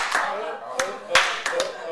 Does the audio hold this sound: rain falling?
no